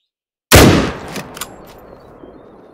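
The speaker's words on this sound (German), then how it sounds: "Und ich werde jetzt auch nur einen Schuss abgeben" A single rifle shot fired at a pig in The Hunter: Call of the Wild game in New Zealand terrain, a sharp loud crack followed by a rolling echo that fades, with a few faint ticks afterward.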